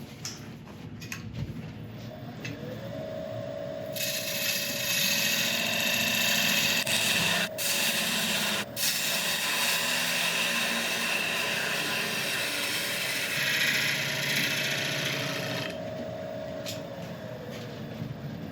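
Woodturning tool being sharpened on a bench grinder: a steady, loud, broadband grinding hiss runs through most of the passage, with a motor hum beneath it, brief sharp breaks and a quieter stretch near the end.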